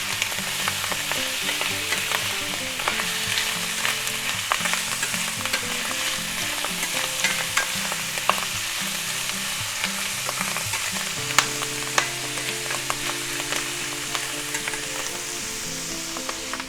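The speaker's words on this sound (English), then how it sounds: "Give it a stir. Release all that good flavor of the garlic." Garlic fries steadily in a pan, its broad hiss running the whole way through as a utensil stirs and scrapes, with no voices over it.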